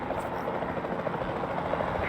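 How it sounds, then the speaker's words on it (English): A steady, close helicopter rotor thrum from the capture team helicopter in the Jurassic World Evolution 2 video game, continuous and fairly loud throughout. "Then the sensible thing is to take a capture team helicopter."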